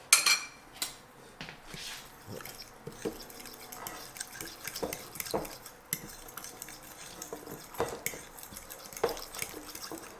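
Keto cinnamon roll ingredients stirred together in a bowl, with repeated clinks and scrapes of a utensil against the bowl at an uneven rhythm, close and moderately loud, with no talking.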